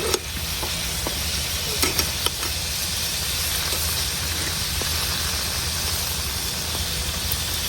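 Chicken momos fry in oil in a frying pan, turned to brown on both sides, giving a steady close sizzle with occasional pops and light scraping clicks, no voices.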